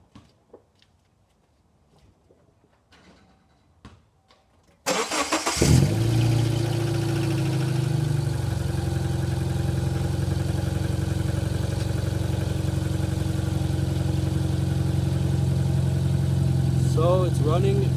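A Subaru Forester engine cranks and catches after a quiet start, then settles into a steady, close idle, with a voice briefly heard near the end.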